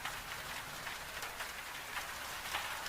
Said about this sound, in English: Outside on the hill, the rain is falling on the heather and the bracken and the long tussock grass